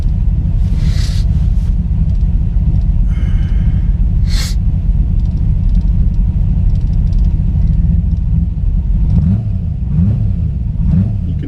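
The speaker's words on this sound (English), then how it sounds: "You can see and hear how nicely it carburates with this Holley double pumper" A 1984 TVR 4.0 V8 with a Holley double pumper carburettor idles from cold with a loud, deep, steady rumble, close by, with a few sharp intake hisses and some uneven throb near the end.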